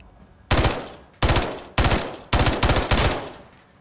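Bursts of automatic gunfire in Call of Duty, six loud close rapid-fire volleys separated by short gaps, with no talking.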